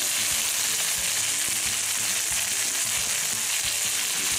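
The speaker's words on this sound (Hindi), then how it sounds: "यहाँ पे मटन डाल दिया है और इसको मीडियम टू लो फ्लेम पे भूनते जाएंगे।" Steady loud sizzling of mutton frying in a pan over medium-to-low flame, with occasional stirring clinks and scrapes underneath.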